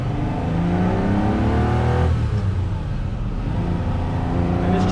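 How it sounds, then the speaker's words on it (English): A manual Ferrari pulls away in first gear with a low, rising engine note, then shifts into second with a brief dip and slight grind before the engine settles, heard close from inside. "You can hear second gear had just a little bit of grind, but because I waited a beat, it gave it a chance to catch up and engage."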